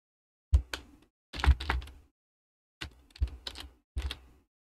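A computer keyboard as a path name is typed in Google Earth Pro, several short clusters of close keystrokes separated by clear pauses, with no talking.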